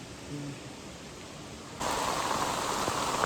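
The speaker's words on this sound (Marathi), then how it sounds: "पाऊस आहे ना आता जोरदार चालू झाला" Heavy rain at a campsite that suddenly grows louder partway through, becoming a dense, steady downpour hiss.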